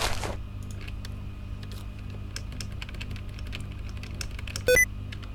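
Rapid typing on a computer keyboard, a steady stream of light key clicks at close range over a low background hum, with one brief sharper tone near the end.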